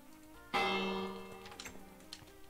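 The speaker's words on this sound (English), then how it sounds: "ring the bell so the villagers get inside" A village bell in Minecraft gives one sharp ringing strike that hangs and fades over about a second, followed by faint scattered clicks.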